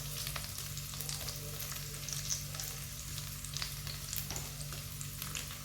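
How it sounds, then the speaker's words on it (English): Broccoli stems gently frying in a frying pan give a steady, soft sizzle with faint crackles and light stirring scrapes throughout, fairly quiet and without talk. "I'm going to let the wee stems just gently chill out in the frying pan for a minute."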